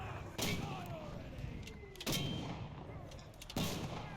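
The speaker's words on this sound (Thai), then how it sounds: "โอ้โหดูมอต้ายิง ยิงให้ขนาดนี้" Mortar fire in the video game Enlisted: three heavy booming launches spaced a second or more apart, each followed by a fading whistle and rumble, over a constant background din.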